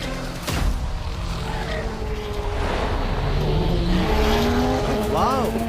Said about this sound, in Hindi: खोसला भाई ने कितना स्मूथली यू टर्न लिया।